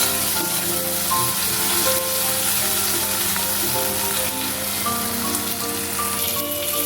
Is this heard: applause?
no